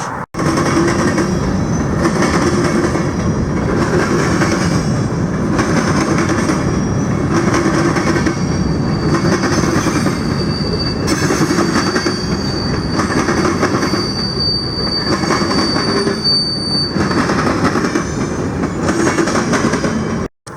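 A train rumbles steadily across a railway trestle over a river, heard from beneath, with rhythmic clacking of wheels over rail joints and occasional metallic squeals, loud and close throughout.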